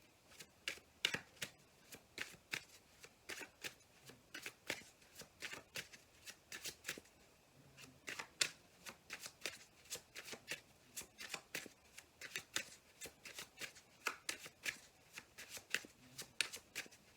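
A deck of tarot cards shuffled by hand, with repeated crisp riffling bursts and card slaps in an uneven rhythm over many seconds, heard close and alone.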